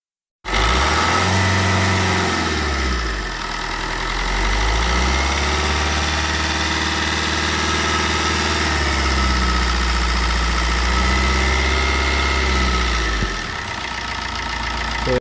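A 2016 model eight-seater car's engine runs steadily at idle for the whole stretch, a loud, close, continuous low hum with slight rises and falls in pitch and no voices over it.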